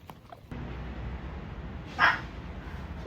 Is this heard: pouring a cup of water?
no